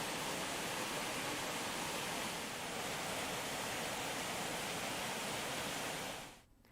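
Tulsi lake, one of the lakes supplying Mumbai, overflowing after heavy monsoon rain: a loud, steady, broadband roar of rushing water that holds unbroken for about six seconds, then cuts off abruptly.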